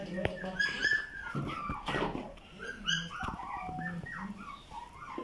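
Twenty-three puppies whimper and yip in short bursts, with occasional barks, close by and mixed with overlapping human voices.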